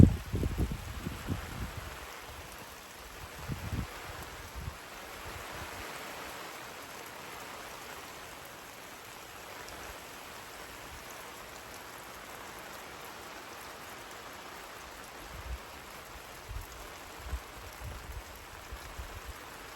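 Steady winter thunderstorm rain falls and patters on surfaces, a soft continuous hiss with occasional low thumps, fairly quiet and without voices.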